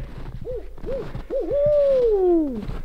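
A person's voice imitates an owl to call one in near a woodland cabin: three short, wavering hoots followed by a long, drawn-out falling call, close and fairly loud with no talking.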